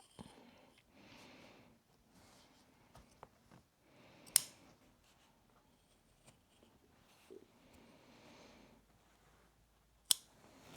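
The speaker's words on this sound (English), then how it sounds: "now we have cut all of the corners out" Scissors snip through fabric while trimming the corners of a boxy makeup bag being sewn, giving a few sharp, close cuts spaced out over soft handling noise.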